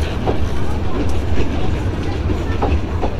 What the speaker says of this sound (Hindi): आधे घंटे रोकने के बाद हमारी ट्रेन अब निकल रही है यहाँ से